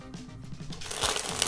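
A deck of playing cards is shuffled close up, with a short soft riffle followed by a brighter, louder burst of flicking card edges.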